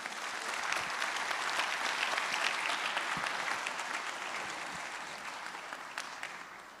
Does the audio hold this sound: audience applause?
yes